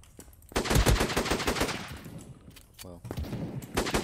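Rapid bursts of SMG fire from the browser shooter game Krunker.io crackle loudly in quick succession, then thin out into scattered shots, with a voice speaking briefly.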